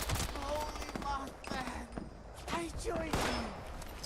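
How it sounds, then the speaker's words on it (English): Enemy gunfire from a Fallout 76 fight, shots aimed into the air, rattles in repeated bursts across the whole stretch, fairly close and loud, with a voice talking over it. "See how he's shooting the air above me there?"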